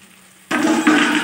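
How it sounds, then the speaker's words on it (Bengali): Ginger-tomato paste and spices hitting a pan with potato and colocasia for a rui fish curry, a quiet start that turns into a sudden loud, steady sizzle, close up with no talking. "আদা টমেটো পেস্টটাও দিয়ে দিলাম, দিয়ে ভালো করে কষাতে হবে।"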